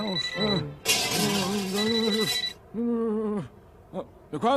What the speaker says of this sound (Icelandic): Hvað er nú síminn?